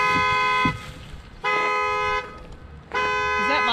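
A car horn sounds nearby in three long, loud blasts with short gaps between them, outdoors near a parked RV.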